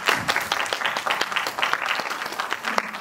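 An audience applauds steadily at a youth policy workshop in Seongnam, giving dense, sustained clapping that stays even throughout with no talk over it.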